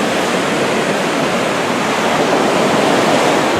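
A continuous, loud roar of breaking surf on a Bali surfing beach, dense and steady with no pauses, the waves washing together into one wide rushing sound.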